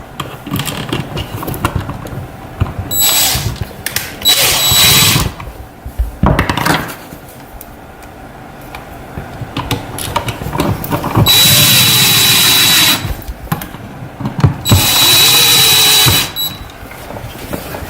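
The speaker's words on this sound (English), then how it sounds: "Just be careful when you're using a power drill to put these in." A power drill drives screws into a GFCI outlet in several whirring bursts, some short and some longer, with spin-ups and pauses between them and light handling noises in the gaps.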